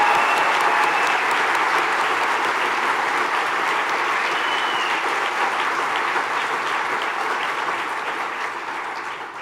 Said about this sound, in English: Let's have a warm round of applause for everyone joining us today.